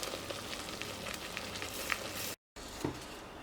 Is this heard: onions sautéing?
yes